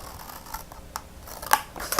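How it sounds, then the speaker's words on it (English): Detail scissors cutting cardstock paper along fold lines for a snowflake luminary craft, giving a few quiet, sharp snips close up, one crisper cut standing out near the end. "I'm cutting up on all 4 of my fold lines"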